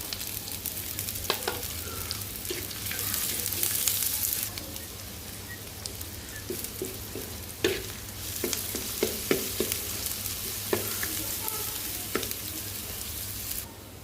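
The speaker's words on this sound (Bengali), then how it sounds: "ওই তেলের মধ্যে আমি পেঁয়াজ আর কাঁচামরিচ দিয়ে দিলাম পেঁয়াজটা হালকা করে ভেজে নিব" Sliced onion and green chili frying in oil left in the pan after frying fish, a steady close sizzle with scattered crackles and pops and occasional stirring, no voices.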